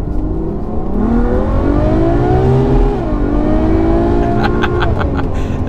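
A Ferrari four-seat V12 revs and pulls strongly, its smooth layered howl climbing in pitch, dipping briefly near the midpoint and rising again, loud and close from inside the car.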